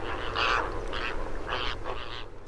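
Wetland birds in Spain's Ebro delta give a series of duck-like quacking calls in short bursts, fairly close over a low background hum, with no speech.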